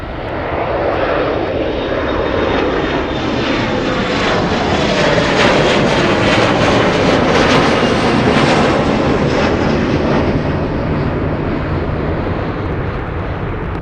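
An MD-11 jet takes off from Anchorage airport on runway 33, its engines a loud, sustained roar that swells and holds steady throughout.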